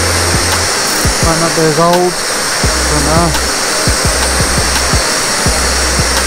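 A compressed-air sandblaster roars continuously at close range, blasting hard black blacking off the steel hull of a canal narrowboat, with someone talking briefly over the steady hiss and a few knocks.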